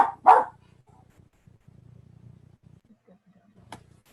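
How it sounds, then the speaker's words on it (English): A dog barks twice in quick succession, loud and close, over a low hum from a remote planning commission meeting call, followed by quiet noise and a faint click. "whose dog is that barking?"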